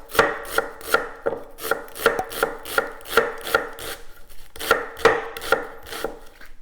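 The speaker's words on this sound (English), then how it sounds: "Take a half of a medium onion and we're just going to slice it thin." Rapid, even taps of a knife thinly slicing half a medium onion onto a cutting board, close and crisp, in a steady rhythm.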